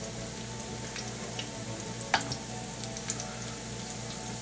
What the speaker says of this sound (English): a shallow fry. And I'm using vegetable oil.